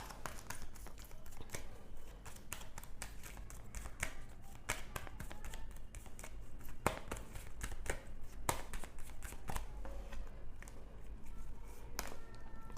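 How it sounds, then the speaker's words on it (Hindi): Tarot cards being shuffled by hand give a continuous stream of soft riffling and tapping. The card sounds are close but quiet, and no speech is heard. "तब तक मैं कार्ड्स शफल करती हूँ।"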